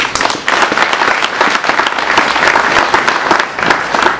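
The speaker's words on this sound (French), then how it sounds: "je vous invite à l'applaudir." An audience claps loudly and steadily at an official tourism week event in Kolwezi, a dense burst of close applause with no talk over it.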